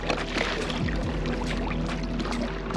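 Sea waves slosh and splash against a kayak off Railay, Thailand, a steady close wash of choppy water with no one talking.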